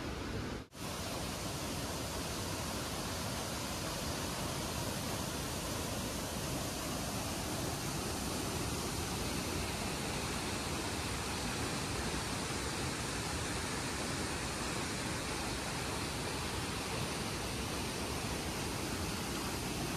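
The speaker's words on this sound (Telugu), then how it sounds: "ఇక్కడ వాటర్ 100 feet ఎత్తు నుంచి పడుతూ ఉంటుంది" Heavy monsoon-season flow of Hanumangundi waterfall plunging about 100 feet, a loud, steady, broadband roar of falling water that fills the whole clip without a break.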